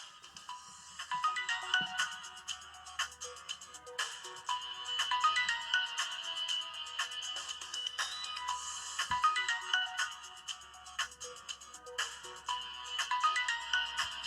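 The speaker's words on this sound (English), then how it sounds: "That's the best ringtone ever made." The Samsung Galaxy S2 ringtone on Android 4.0.3 plays alone as a bright, melodic electronic tune in quick repeating phrases, moderately quiet and clean.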